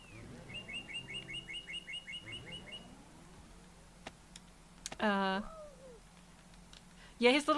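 Bird chirps and tweets from the video game Spider Fox come in quick bursts, mixed with clicking taps and a brief louder squawk, while a person talks now and then.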